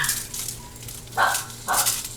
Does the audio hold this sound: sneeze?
no